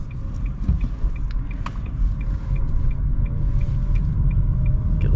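A 2025 Nissan Leaf electric car accelerates, giving a steady, loud low road-and-drivetrain rumble with faint tonal whine and light ticks throughout, with no talking.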